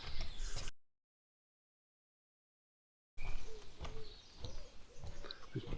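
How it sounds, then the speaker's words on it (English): Birds sing along a walking trail in southern Scotland, faint chirps and calls scattered over outdoor rustle and footsteps, with a stretch of complete silence in the middle. "There's birds singing all the time here on this trail."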